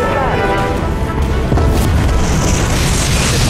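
A heavy, booming torpedo explosion in the video game Dreadnought rumbles loudly for several seconds with a deep roar, swelling again partway through.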